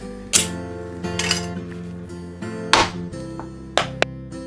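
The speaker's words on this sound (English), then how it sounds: "let's go ahead and open the can" A metal can of Spam being opened gives off a few sharp clicks, clanks and a pop, spaced out over a low steady kitchen hum, near and without talk.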